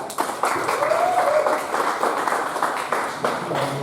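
An audience at an Al Khairiyah ceremony for installing organizations bursts into sustained applause, close and fairly loud, with scattered sharp claps and a faint whistle riding over the noise.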